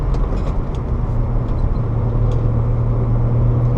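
A 1987 BMW 325is E30 engine drones loudly from inside the cabin, its pitch holding then stepping up as the throttle opens fully, with no talk.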